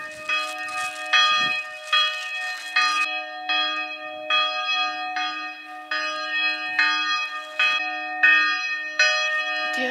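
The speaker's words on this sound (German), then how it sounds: "Vor allem, wie man die Glocke da so hin und her schwingen sieht." A church bell rings loudly and continuously, swinging strikes repeating about every second with long resonant overtones and no voices.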